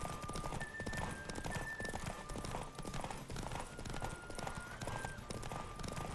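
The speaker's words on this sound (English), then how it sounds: "Don't spare the horse." A horse gallops in a race in the video game The Witcher 3: Wild Hunt, with steady rapid hoofbeats throughout and occasional whinnying over a busy game soundscape.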